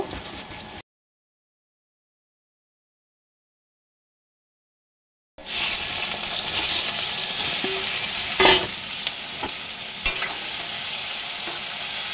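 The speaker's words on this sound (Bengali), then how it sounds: "চিংড়ি মাছটা একটু ভাজা করে নেব।" Prawns coated with salt and turmeric sizzle in a pan after a stretch of silence, a steady crackling hiss with a couple of sharp utensil scrapes near the end.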